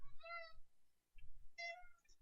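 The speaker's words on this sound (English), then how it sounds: "Our cat has decided to say hello." A pet cat meows twice, close and clear, with a short pause between the drawn-out calls and some low background rumble.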